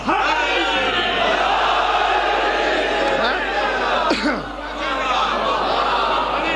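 A crowd at a Shia religious majlis gathering chants slogans in unison, a loud, dense wall of many voices that swells steadily with only a brief dip in the chanting.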